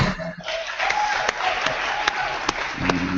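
Lecture audience bursting into applause, a dense and fairly loud patter of many hands filling the room, with a brief voice at the start and a tone creeping in near the end.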